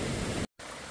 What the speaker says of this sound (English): Beautiful streams today.